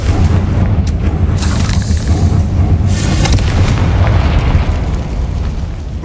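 A Confringo fire spell explodes in Hogwarts Legacy, a loud, sustained booming blast with deep rumble and crackling bursts that fade slightly at the end.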